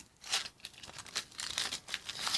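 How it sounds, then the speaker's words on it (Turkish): The wrapper of a Toto surprise egg is pulled open close up, giving sharp crinkling and tearing in quick uneven bursts. "Evet ilk Toto sürpriz yumurtamızı açıyoruz"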